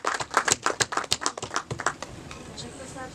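A round of hand clapping from an audience at a Hindi film trailer launch, brisk at first and then tapering off into quieter scattered claps.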